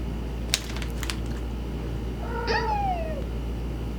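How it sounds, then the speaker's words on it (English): A pet cat gives a single drawn-out, falling meow close by, preceded by a few light clinks and taps, with a low steady hum underneath. "My kitty says hi."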